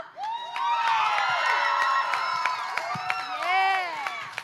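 An audience cheers for a karaoke contestant, with loud, close, high-pitched shrieks, whoops and squeals that overlap and keep going almost without a break.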